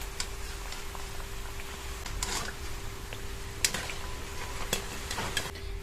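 Lentil fritters (bora) frying in hot oil give a steady soft sizzle, with scattered metal ticks and scrapes from a utensil lifting the crisp fritters out of the pan.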